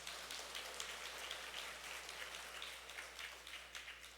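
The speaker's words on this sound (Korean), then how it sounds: "박수 한번 쳐주시고." Applause from a Catholic congregation at Mass in a retreat house chapel, a dense, steady patter of many hands clapping together, fairly distant and soft, with no talking over it.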